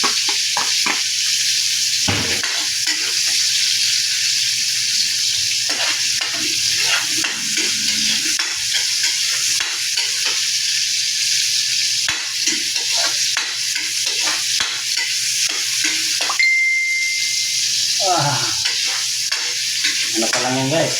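Onion, garlic and tomato sauté for sinigang in a pan, a continuous close sizzle broken by repeated scraping stirs of a utensil.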